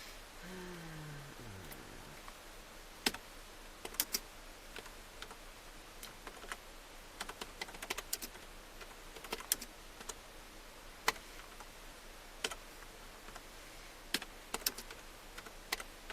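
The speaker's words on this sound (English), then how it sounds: "Alright, I'm gonna type that up now." Sparse keystrokes on a computer keyboard tap out in irregular bursts against a quiet room, faint and close, with pauses between clusters of clicks.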